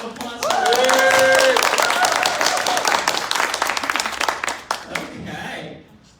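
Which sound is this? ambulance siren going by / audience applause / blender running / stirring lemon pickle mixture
audience applause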